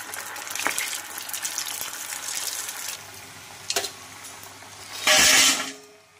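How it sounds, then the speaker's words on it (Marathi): Bati dough balls deep-frying in hot oil give a continuous sizzling hiss, with a few sharp crackles and a louder bubbling surge near the end. "अशा प्रकारे आपल्याला सगळ्या बाट्या तळून घ्यायच्या आहेत"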